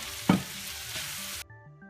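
Butter sizzles in a hot pan for stuffing, a steady broadband frying hiss with a sharp spike as it hits, cutting off abruptly into quieter tones.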